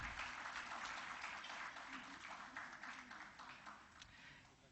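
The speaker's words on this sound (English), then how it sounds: "Ladies and gentlemen, a round of applause for our chief guest" Audience applause for the chief guest at a safety convention, a continuous wash of clapping from a large hall that gradually thins and fades, heard at a distance with a faint background murmur.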